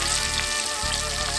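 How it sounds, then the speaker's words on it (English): Mushrooms coated in almond flour fry in canola oil, giving a steady, dense sizzle and crackle close by that fills the whole moment without pause. "So we're frying this in canola oil, and we got it in almond flour."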